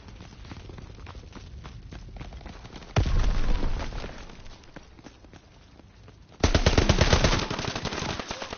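Gunfire in the Call of Duty WW2 video game, sustained rapid automatic bursts with sharp loud volleys that surge and ease, dense rattling shots close up with no talk.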